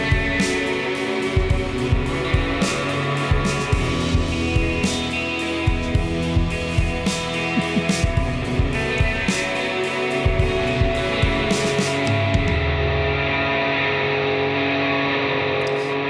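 An electric guitar played through a Caroline Meteor reverb pedal rings out in plucked notes and strums that leave a thick, washy reverb tail, sustaining loudly and fading into a long ambient decay near the end.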